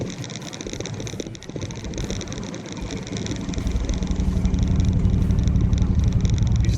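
Engine of a 1964 Buick Wildcat running as the car drives off, a rough low rumble that builds louder and steadier over the last few seconds, with no voices.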